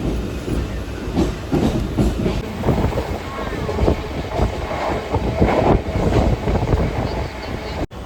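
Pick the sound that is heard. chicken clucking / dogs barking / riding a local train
riding a local train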